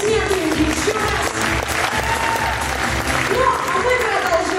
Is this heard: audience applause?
yes